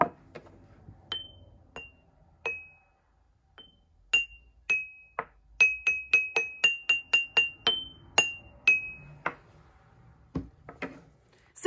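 Drinking glasses filled with different amounts of water struck one after another, each giving a clear ringing pitch that decays, first spaced out, then in a quick run of clinks, with a few softer knocks near the end.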